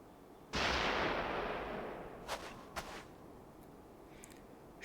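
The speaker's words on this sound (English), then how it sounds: "Shots from a firearm." Firearm shots in Final Fantasy XIV: one loud, echoing blast that fades slowly, followed by two sharper, fainter cracks about half a second apart, with no one talking.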